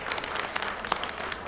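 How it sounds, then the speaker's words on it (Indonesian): Workshop audience clapping briefly indoors, a scattered round of applause that stays fairly quiet and short, with a few louder individual claps standing out. "Kita kasih tepuk tangan dulu."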